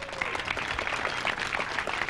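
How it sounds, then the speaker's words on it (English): Audience at the Minnesota State Fair applauding, a dense, steady wash of many hands clapping at moderate loudness throughout. "Let's hear it again for Casey Jones"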